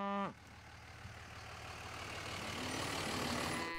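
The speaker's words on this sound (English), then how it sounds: "As the cows finally come off the highway and into their winter pasture." A single loud moo from cattle being driven off a highway into winter pasture opens the scene, followed by a steady outdoor hiss and a low engine hum.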